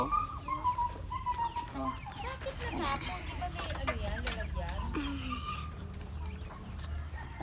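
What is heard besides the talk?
Rhode Island Red chickens clucking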